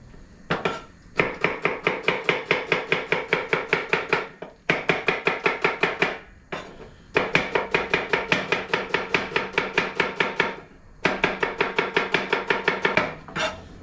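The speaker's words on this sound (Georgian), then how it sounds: "დავჭრათ ხახვიც დიდ ნაჭრებად." Knife chopping onion into large pieces on a cutting board for Kapustnica, rapid steady cuts in four long bursts with brief pauses between, close and crisp.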